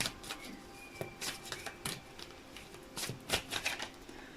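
Tarot cards being shuffled and drawn, quick riffling flicks and soft slaps of card on card in irregular bursts, close by and with no talking.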